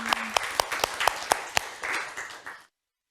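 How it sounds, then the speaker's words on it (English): Scattered applause from a small seminar audience after presentations, a few distinct sharp claps standing out over a soft patter that fades within a few seconds. "Let's give them a round of applause"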